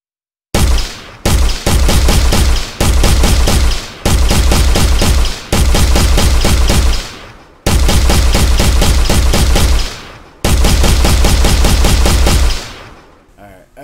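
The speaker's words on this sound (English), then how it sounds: "I just fired a lot of rounds into it, and it didn't move very far." Gunfire from a gun in an Unreal Engine 4 physics test scene: loud, close rapid-fire bursts, about seven long volleys separated by brief pauses, each a dense rattling stream of shots.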